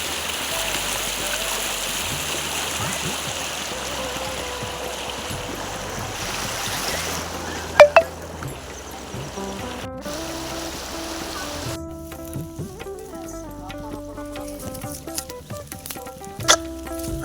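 Water in a stream flows and patters steadily and fairly close, a soft continuous rushing with a few brief louder knocks, and no talking over it.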